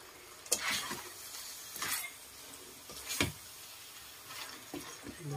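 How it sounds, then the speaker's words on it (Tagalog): Spoon stirring a simmering vegetable and tofu stew in a pot, several distinct scraping clinks spaced a second or so apart over a soft bubbling bed, close and fairly quiet. "haluin niyo po para hindi siya masunog"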